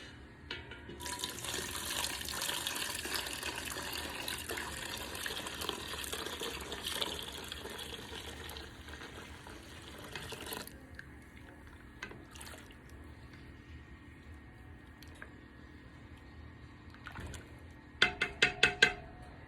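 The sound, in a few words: liquid poured into oil for lotion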